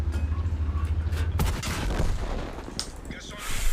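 Tank cannon fire in World of Tanks, with a heavy boom partway through followed by rumbling, mechanical noise and further blasts, loud and close, with a voice talking over it.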